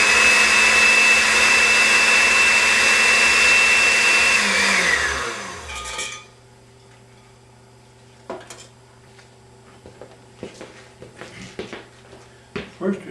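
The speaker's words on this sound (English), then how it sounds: "Okay, and then we turn it on." A kitchen blender runs with a loud, high whirring roar for about five seconds, then winds down and stops, leaving a quiet room with scattered clinks and knocks.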